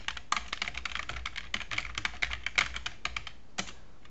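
Quick, close typing on a computer keyboard as a command is entered, with a rapid patter of key clicks and a few louder strikes, no voices.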